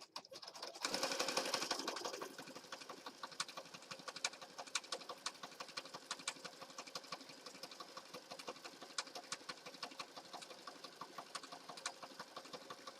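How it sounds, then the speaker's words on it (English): An electronic sewing machine stitches across wallpaper in a long, even whir of rapid needle ticks. A brief louder burst comes at the start, then a steady, fairly quiet run alone. "I'm just going to flip it around and then sew back across on the other side."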